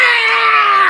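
A child lets out one loud, sustained, high-pitched scream that fills the whole short moment, close and unbroken, with nothing else heard.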